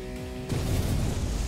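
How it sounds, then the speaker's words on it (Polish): An explosion bursts in a free racing video game, a sudden loud boom that cuts in after a steady engine hum and rumbles on to the end. "Wybuch."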